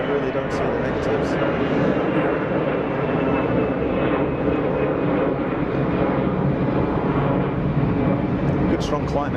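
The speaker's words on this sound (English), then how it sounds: "Good strong climb out from the EasyJet Airbus." EasyJet Airbus jet climbing out after takeoff from Geneva Airport, a steady, loud broadband engine roar that holds throughout without fading, with talk faintly mixed in.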